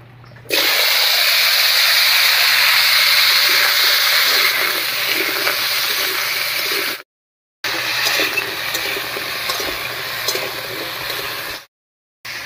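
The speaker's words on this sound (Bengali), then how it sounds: "তেল গরম হয়ে গেছে, এবার পেঁপেটা দিয়ে দিচ্ছি।" Pieces of papaya sizzle in hot oil in a blackened wok, a loud, steady crackling hiss that holds for most of the stretch, broken by two short silent gaps.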